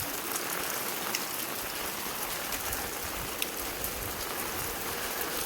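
Steady rain pours down outside a farm, a dense continuous hiss of drops on surfaces at an even level throughout, with no voices.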